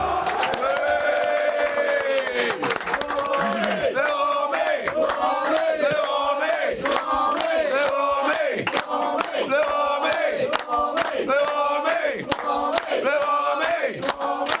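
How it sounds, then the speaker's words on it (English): A capacity crowd in a sports arena roars and chants in unison, loud and sustained, with rhythmic surges and sharp claps or bangs punctuating the noise. "Capacity crowd in fine voice."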